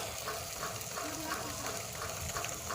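Food seasoned with chili fries in a pan, a constant soft sizzle with faint stirring, steady and fairly quiet throughout.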